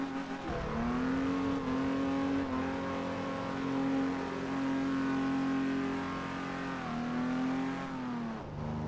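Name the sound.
car wheel spinning in video game Test Drive Unlimited 2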